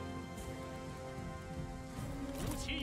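Heavy rain pours in Total War: Three Kingdoms, a soft continuous hiss that holds at low level with a tonal music bed and a brief swell near the end.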